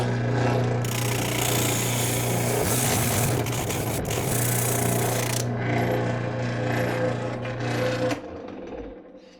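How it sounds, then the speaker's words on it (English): A small spindle sander grinds steadily against two cedar boards clamped together, a loud continuous motor whine with rougher scraping as the wood is pressed in, easing off near the end. "I got my small spindle on my sander. We're going to take our 2 sides, just sandwich them together so we can sand them both down at one time."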